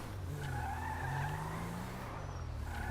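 A car in GTA 5 skids with a sustained tire squeal over a steady engine drone, moderately loud and with no talking.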